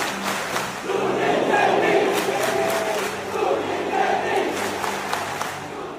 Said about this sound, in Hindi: मुंबई के उस स्टेडियम की भीड़ ने सुनील छेत्री के नारे लगाए